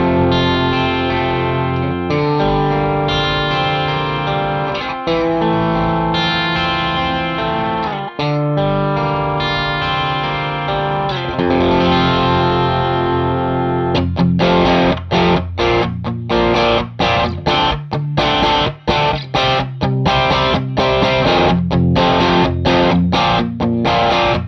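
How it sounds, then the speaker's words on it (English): Electric guitar played through a Red House Electronics Mint Drive overdrive pedal set to a darker EQ shape, loud and continuous: sustained overdriven chords for about fourteen seconds, then choppier, rhythmically muted strums, with no talking. "you can hear it really doesn't lose the ability to sort of articulate the notes and the overdrive tones"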